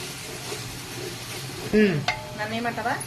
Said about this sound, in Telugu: ఇప్పుడు మనకి మసాలా అంతా వేగిపోయిందండి